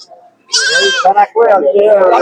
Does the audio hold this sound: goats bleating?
yes